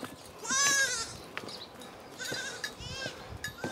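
Goats bleat at a ranch stable in Carmona, Seville: a long wavering bleat up close, then a second quavering call, over outdoor noise and scattered thumps.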